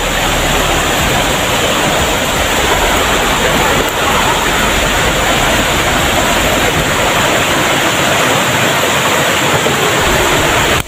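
Water flowing in a creek rushes steadily and loudly without a break, a dense broadband wash with no voices on top.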